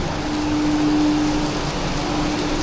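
Heavy rain falling in Siam Square, Bangkok, a constant loud hiss of downpour filling the street, with a faint steady hum running through it and no talking.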